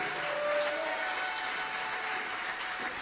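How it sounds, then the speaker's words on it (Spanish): Applause from a church congregation, a steady dense wash of clapping that holds at an even level throughout, with no voices on top. "Dale un aplauso al Rey"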